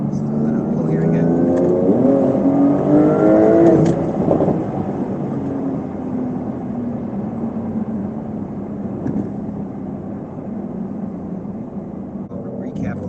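A Porsche 992 Turbo S accelerates hard, engine note climbing through rising gear pulls over the first seconds, then settling into a loud sustained roar and road rumble, with a voice speaking over it.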